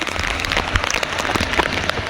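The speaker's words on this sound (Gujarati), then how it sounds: "રાતના 3 વાગે છે ને ફૂલ વરસાદ ચાલુ છે." Heavy rain pours down at night in Mithapur, a dense, steady hiss of drops drumming on surfaces with scattered louder splats, continuous and close throughout, with no voices.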